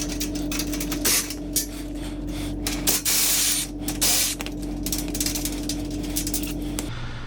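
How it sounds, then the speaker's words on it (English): Brake cleaner sprayed from an aerosol can during work on a Grom clone motorcycle gives repeated close, loud hissing blasts of varying length over a steady background hum. "Gonna need some brake cleaner."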